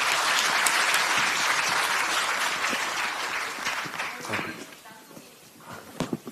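A crowd at a 2023 Democratic Party of Korea rally applauds as regional committee chairs are called forward; loud, dense clapping thins toward the end into a few scattered claps.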